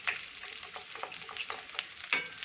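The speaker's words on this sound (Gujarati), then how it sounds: "એમાં નાખી દઈશું અને થોડું હલાવીશું તો ચોટી ના જાય" A spatula stirs a ginger, green chili, cumin and black pepper paste in a hot pan, giving quick scraping strokes over a soft sizzle, close and fairly quiet, with no voices.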